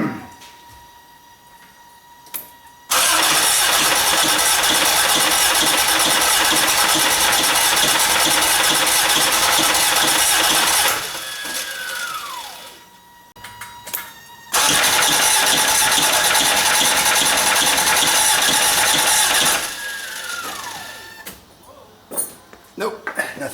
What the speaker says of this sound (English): when I was turning this thing over to see if I could get it to crank, it was making some hellacious noises